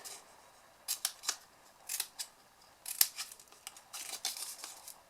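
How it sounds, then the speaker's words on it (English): Small scissors snip teeny paper tabs for the corners of a little hinged card box, a series of quiet, crisp close cuts in uneven bursts with short pauses between. "And then we're going to cut some teeny weeny tabs for the corners."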